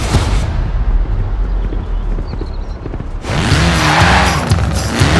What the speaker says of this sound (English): A spot of rallying in the most British car of them all.